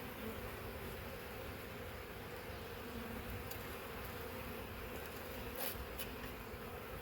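Honey bees hum around a hive as a package of bees is installed, a dense steady buzz that fills the whole clip at constant loudness, with no voices.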